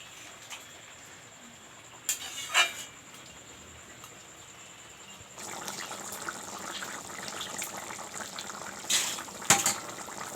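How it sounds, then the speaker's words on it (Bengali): Water is poured into a pot of chicken curry. A soft, steady gushing begins partway through and continues to the end under faint clinks, with a quieter room hiss before it starts. "জল দিয়ে দিলাম"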